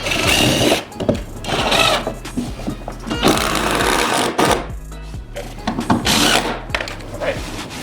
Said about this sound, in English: I'll go ahead and countersink it a little bit to help.